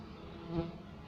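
Guard honeybees buzz at the hive entrance as they harass an incoming bee, a dense close hum that swells briefly mid-way.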